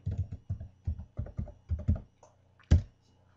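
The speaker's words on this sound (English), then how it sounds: "then we're going to type in Peerblock." Keys clatter on a computer keyboard in short bursts of quick taps, with brief pauses between groups and one louder final keystroke, close and alone with no talking.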